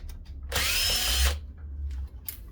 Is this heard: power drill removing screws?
yes